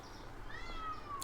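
A cat meows once in a drawn-out, rising and falling call, clear and close over a low steady background hum, with no talk.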